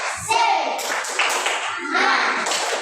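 Classroom students perform a rhythmic spirit clap together in quick bursts of group hand claps, with children's voices chanting along and the teacher's voice briefly present.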